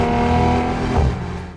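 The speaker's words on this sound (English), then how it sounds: "You can hear the engine, especially at higher revs." A Maserati Levante Trofeo with its Ferrari-sourced V8 revving hard under way, a loud, close, rich engine roar with a steady tone that shifts briefly as the revs change, then tails off.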